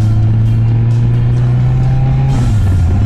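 Kawasaki ZZR 1400 motorcycle cruising at speed on a ride home from work, its engine a steady, loud, continuous drone with road and wind rush, the pitch dipping slightly near the end.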